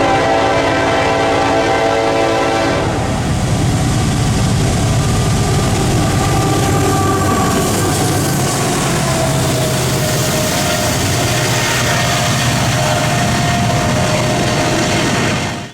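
Norfolk Southern freight train NS264 passing close by, its horn blaring loudly for the first few seconds before the heavy rumble and clatter of rolling railcars takes over and continues steadily.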